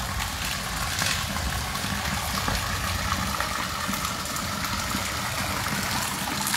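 Floodwater washing over a street as a bicycle rides through it, a steady close rushing wash with a low mechanical hum underneath and no voices.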